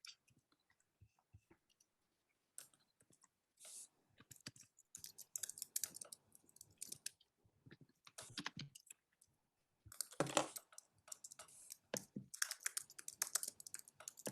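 Scattered keyboard typing from several people on a Zoom call, irregular clicks and bursts of keystrokes with pauses between, fairly faint and close, no talking.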